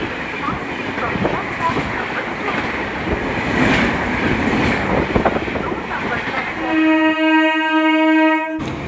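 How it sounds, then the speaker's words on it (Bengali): The Balurghat–Kolkata Tebhaga Express rushes at high speed through Khagraghat station without stopping, a loud close roar and rattle of wheels on rails ending in a long multi-tone horn blast. "ওটা বালুরঘাট কলকাতা তেভাগা এক্সপ্রেস।"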